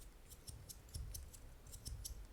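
Sliding metal parts of a zirconium fidget slider toy give soft, rapid ticking clicks in an irregular series of faint, close taps as it is squished back and forth.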